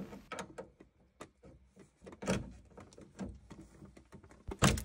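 Mechanical clicks and knocks from a weir spanner turning the pump cartridge on an Ideal Logic combi boiler with intermittent hot water, a run of irregular close metallic taps and scrapes, with a sharper louder clank at the end.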